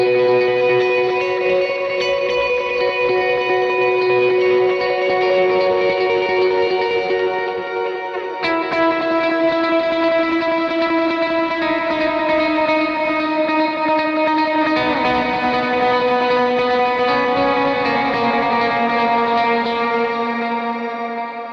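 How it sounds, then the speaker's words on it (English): Electric guitar trill picking through a high-mix sixteenth-note delay, building a sustained, shimmering wall of repeating notes with reverb, steady and loud throughout with no talking. "It's going to give you that trill sort of wall of sound."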